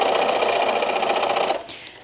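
Sewing machine stitching down pressed fabric for a drawstring bag, a fast even rattling run of needle strokes that stops abruptly near the end.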